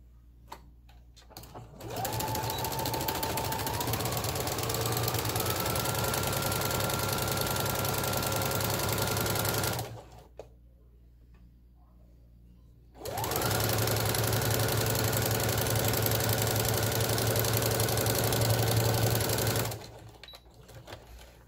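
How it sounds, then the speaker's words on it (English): A sewing machine stitches a jersey fabric bow in two long runs of steady, fast mechanical whirring and knocking, close and loud, separated by a brief pause, with no talking. "You want to sew this one with a zigzag or a stretch stitch because it needs to stretch with the headband."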